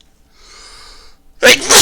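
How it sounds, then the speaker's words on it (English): A single loud, sharp human sneeze bursts out after a faint, drawn-in breath, indoors during a cold-weather livestream. "Sorry about that, just sneezed again."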